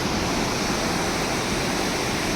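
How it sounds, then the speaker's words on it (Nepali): A river at Lodho near a bridge gives a loud, steady, even rush of flowing water with no pauses. "यहाँनिर चाहिँ लोधोमा खोला"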